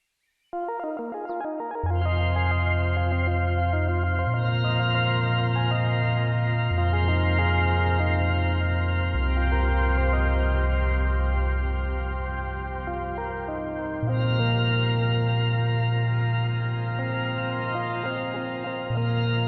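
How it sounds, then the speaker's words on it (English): A sustained synthesizer drone driven by plant bio-signals through PlantWave, with shifting bass notes and a shimmering, chorused lead, changing pitch every couple of seconds, steady and loud, no voices. "the plants will be playing these instruments that are built into this software, and they'll also be playing this synthesizer"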